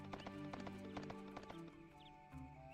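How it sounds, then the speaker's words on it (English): Horse hooves clip-clop in a steady trotting rhythm in the Suikoden III video game, near and clear over game music, with a brief whinny-like tone near the end. "Yo, you get to ride a horse, that's so cool!"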